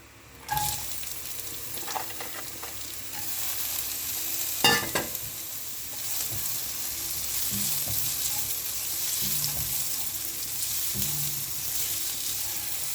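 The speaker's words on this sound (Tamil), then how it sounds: "வெங்காயம் பாதி அளவுக்கு வதங்கியிருக்கு." A large onion with fennel seeds sautéing in a little oil in a pan for a lazy samosa filling, steady close sizzling and frying with occasional stirring scrapes throughout.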